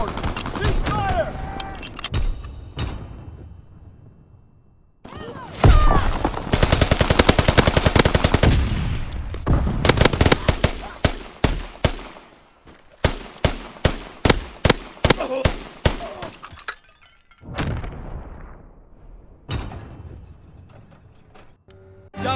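Machine-gun fire from a strafing run in Call of Duty: WWII: long rapid bursts of gunfire, then a string of separate heavy shots and crumps, with game voices now and then.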